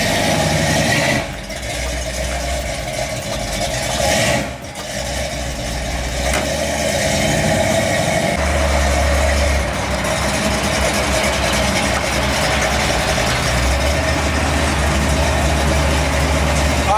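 A 1970s Buick Skylark with a custom audio build sits idling, its engine giving a steady low rumble close by with a few brief dips and shifts in tone.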